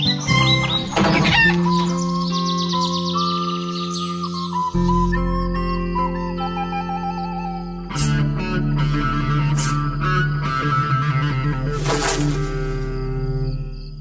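Cartoon chickens cluck and chirp over a musical score with bright, repeated calls and fluttering, loud and close alongside melodic background music.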